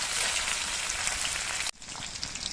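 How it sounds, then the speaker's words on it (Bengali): Fresh Ganges tengra fish frying in oil in a pan, a dense, steady close-up sizzle that drops off sharply near the end and then resumes more quietly. "মাঝারিভাবে মাছগুলোকে ভেজে নিলে হয়ে যাবে"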